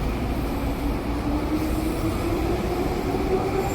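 A test train rolls past on an overpass above, its steady, loud rumble of wheels on rail continuing throughout with a faint wheel squeal tone and no talking.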